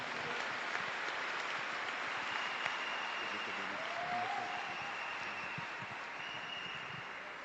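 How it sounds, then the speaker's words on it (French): Church congregation applauding steadily throughout, a dense, even wash of clapping from a sizeable crowd with no voices standing out. "Acclamons Jésus-Christ pendant qu'il vient"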